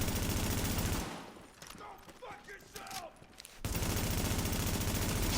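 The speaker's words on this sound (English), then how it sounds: "try to shoot the grenade packs off of the grenaders" Gunfire from The Division video game, heard as a dense, loud burst of rapid shots that breaks off into a quieter gap with a voice talking, then resumes as sustained heavy fire.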